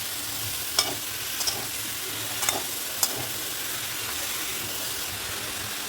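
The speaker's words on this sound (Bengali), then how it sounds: "এবার ভালো করে মশলাটা করে মোচাটাকেও কষে নেব" Banana flower with spices and shrimp stir-frying in a pan, a continuous hissing sizzle with a few sharp scrapes of the stirring spoon.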